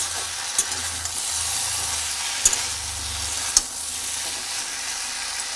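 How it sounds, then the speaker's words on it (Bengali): Potatoes and sliced teasel gourd (kakrol) sizzle steadily in an oiled pan for a malai curry while being stirred, with a constant frying hiss broken by a few sharp clicks of the spatula against the pan. "আলুগুলো দেওয়ার পরে আবার ভালোভাবে একটু নাড়াচাড়া করছি।"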